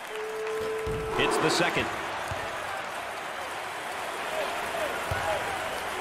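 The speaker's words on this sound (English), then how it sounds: "there's all kinds of people standing and cheering and going wacky." A basketball crowd at a college conference championship game cheers and applauds, a broad roar swelling briefly and then holding steady beneath a commentator's loud voice throughout.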